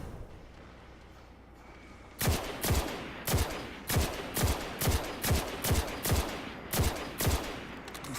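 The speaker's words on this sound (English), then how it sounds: "Here's something slower firing, like the Jade Rabbit." A Jade Rabbit scout rifle fires in a video game: after a quiet start, about a dozen loud single shots ring out in a steady, fairly quick rhythm, each with a short booming tail.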